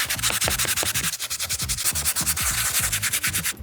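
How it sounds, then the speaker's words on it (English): A stiff bristle brush scrubs an Undefeated Jordan 4 sneaker in rapid, rhythmic back-and-forth strokes, a close, loud, scratchy rasp that repeats steadily without talk. "For this, I like to use a stiffer bristle brush."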